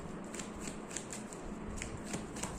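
Tarot cards are handled and shuffled in quick, soft, papery riffles and taps, one card drawn, faint and close with no talking.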